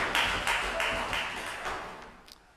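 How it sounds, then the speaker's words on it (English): A congregation claps and stomps together in a church service, a burst of broad, roomy collective noise that pulses in rough waves and then fades out over a couple of seconds. "So could we have just a collective moment of noise, maybe clap or stomp or..."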